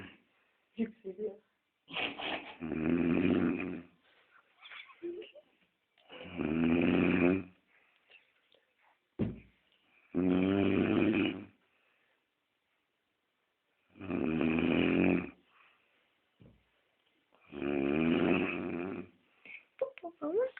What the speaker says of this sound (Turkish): Bu babamın uyuma horlamasıdır.